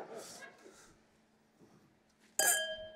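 Glasses of Italian white wine clink together sharply in a toast near the end, one bright ringing contact after conversational voices in a studio talk show.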